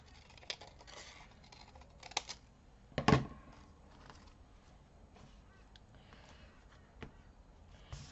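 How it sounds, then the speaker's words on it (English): Scissors snip through paper trim in a papercraft folio project, a few short quiet cuts with one sharper crunch in the middle, set against a soft background with no talking. "let's cut off the white"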